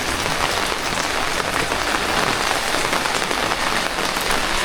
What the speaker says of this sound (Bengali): অনেক অনেক বৃষ্টি হচ্ছে